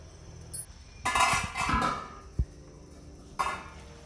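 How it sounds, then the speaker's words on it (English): A metal lid goes onto a pan of chilli paneer cooking over a low-to-medium flame, making a loud clattering rattle for about a second, then a single sharp clink a moment later and a faint tap at the end. "And then we cover the pan for a few seconds."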